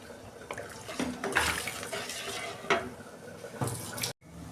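Water poured into a cooking pan for a fish curry, a steady close splashing stream lasting a few seconds with a brief clink, then stopping abruptly.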